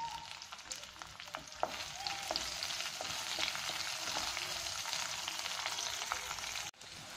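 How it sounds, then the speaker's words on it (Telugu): Sliced onions for sambar fry in oil in a pan with a continuous close crackling sizzle and occasional stirring scrapes, steady throughout with a brief dip near the end, no voices. "పొడవుగా కట్ చేసుకున్న ఉల్లిపాయలు కూడా వేసి ఫ్రై చేసుకుందాము 1-2 నిమిషాలు."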